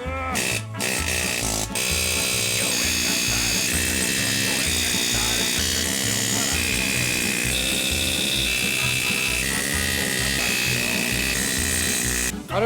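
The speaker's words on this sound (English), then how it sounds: "the air hammer is going to do all the work here" A loud pneumatic air hammer rattles continuously at close range while replacing rear upper arm bushings on a Toyota Altezza SXE10, its rapid pounding steady throughout with a heavy mechanical drone.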